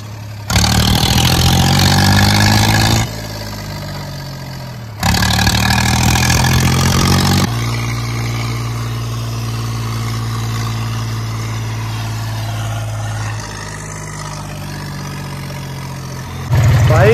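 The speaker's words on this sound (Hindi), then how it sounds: "भाई जाम लग रहा बहुत भयंकर वाला" Engines idle and rumble steadily in a heavy traffic jam at the Garh Ganga fair, with a couple of louder revving surges; no talking, just a continuous low drone of vehicles nearby.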